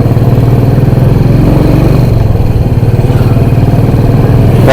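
A motorcycle engine drones loudly and steadily throughout near Lemur Beach, Kanyakumari, a constant low rumble as if riding along, with no talking.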